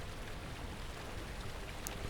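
Steady watery splashing and sloshing as someone walks through water in the horror game Amnesia, a continuous faint wash of sound with no clear individual steps and no talking.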